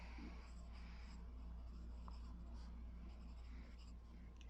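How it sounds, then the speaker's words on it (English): A pen writing by hand in a journal makes soft, faint scratching strokes against a steady low background hum. "I can write it on the bottom here."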